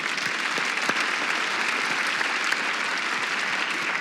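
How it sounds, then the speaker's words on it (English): Sustained applause from a large keynote audience at an SAP Sapphire customer success session, steady and dense clapping at a loud, even level throughout with no talk over it. "A great round of applause for Martur Fonpak."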